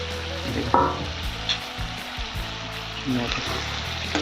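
Potatoes fry in a pan with ginger-garlic paste and crushed green chilli for an Assamese-style chicken curry, producing a loud, continuous crackling sizzle close up, broken by a few scraping stirs.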